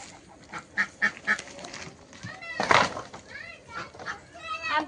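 Domestic ducks being gathered and put indoors give a few nasal quacks between bursts of people talking nearby, in a close, fairly quiet rural setting.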